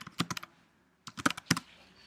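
A search term being typed on a computer keyboard: a quick cluster of close key clicks, a pause of about half a second, then a few more keystrokes, quiet and without talking.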